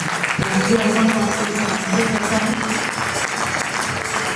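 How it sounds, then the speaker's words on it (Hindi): Loud applause from an audience at a direct-selling event in a hall, a dense continuous roar of clapping that runs throughout, with reverberant room sound and some voices mixed in. "प्रियांशु खुद बताएंगे जोरदार तालियों के बीच में"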